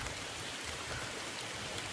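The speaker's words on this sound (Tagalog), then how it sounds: "kasi naabutan kami ng ulan" Steady rain falls outdoors, a continuous hiss of drops with no breaks, moderately faint and close, with no voices over it.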